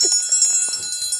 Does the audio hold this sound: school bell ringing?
yes